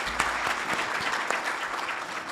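A room of listeners claps in welcome for a guest at a podcast-style session, steady close applause with a few sharper individual claps standing out.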